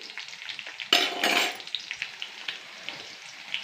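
Dry red chillies hit hot oil for a pumpkin palya, bursting into a loud, close sizzle that swells for about half a second before settling into a steady, softer frying crackle with scattered pops.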